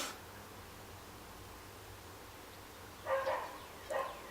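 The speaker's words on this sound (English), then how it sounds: "Sorry about the dogs." A dog barks twice indoors, brief and fairly faint yips from another room, against a quiet steady background hiss.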